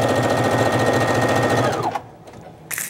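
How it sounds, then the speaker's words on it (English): A sewing machine runs steadily while backstitching fabric, a fast continuous mechanical whir that slows and stops, followed by a short click and rustle. "So let's take it over to the sewing machine."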